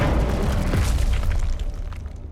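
A Confringo blasting curse in Hogwarts Legacy detonates as a loud, deep boom with a rumbling tail that slowly fades over two seconds, heard alone without talk.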